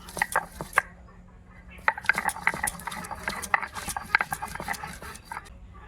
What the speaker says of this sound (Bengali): এবার পেঁয়াজ কুচিগুলো বেটে নেব।